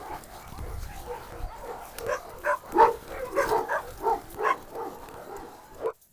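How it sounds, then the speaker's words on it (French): A dog barks repeatedly in a quick irregular series, moderately close, over faint background noise before stopping abruptly. "Un chien est devant la porte, courez!"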